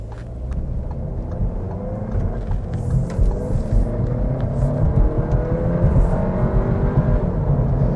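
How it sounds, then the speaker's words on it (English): 2025 Audi A3 engine held at high revs in sport mode, a continuous loud rumbling whir rising gradually from the cabin, with no talk over it. "It holds the revs really high and gets a little bit annoying."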